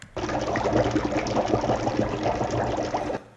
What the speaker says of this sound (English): bubbling water,